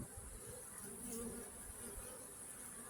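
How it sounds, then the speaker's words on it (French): Dense, continuous buzzing of many honeybees close by at a hive, a steady drone with no voices. "les températures remontent, pas de pluie, et les abeilles elles sont sorties."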